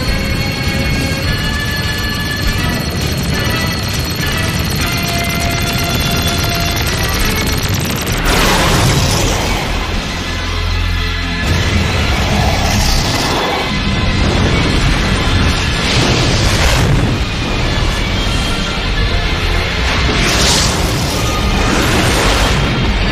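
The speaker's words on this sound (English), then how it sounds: "Fire the main gun." A main gun fires in an animated series, a loud sustained blast with a roaring, crashing wash that swells and recurs over a dense, constant effects bed.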